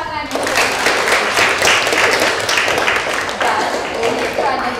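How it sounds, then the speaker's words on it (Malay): Students at a girls' school clapping together in a classroom, a steady, close burst of hand claps filling the room with a few voices over it. "Okey, tepuk tangan"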